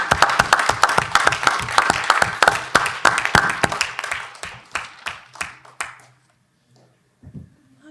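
An indoor audience at an academic symposium gives a burst of hand clapping, dense and fairly loud at first, then thinning to scattered claps that fade out, with a few faint sounds after.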